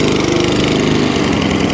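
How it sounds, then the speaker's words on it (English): An Atco Balmoral lawnmower engine runs loud and close with a rough, pulsing beat and a slight hunting unevenness in speed. No voices are heard over it. "So I have got a little tiny bit of hunting there."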